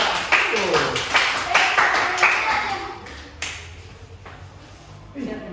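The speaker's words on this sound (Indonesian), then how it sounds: "beri aplaus kepada kelompok 3" A classroom group clapping for a presenting team, giving brief ragged applause with a few distinct claps that fades within a few seconds, with a voice speaking over it.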